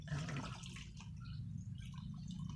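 Tap water pours and splashes steadily into a container for a Siberian husky puppy to play in, a continuous close rushing and gurgling stream with no talk.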